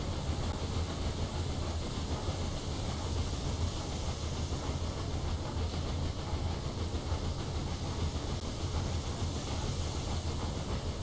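A cargo train runs along the tracks in the railway management game Railway Empire 2, giving a steady, continuous rumble with a low engine drone that holds even and unbroken throughout, with no voices over it.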